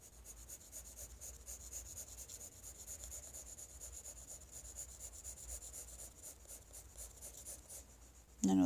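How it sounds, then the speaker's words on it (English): A pencil shades a drawing on paper, a soft, steady rhythmic scratching and rubbing of graphite strokes, close and quiet throughout, with a faint voice at the very end. "Here I'm shading form shadow and cast shadow at the same time."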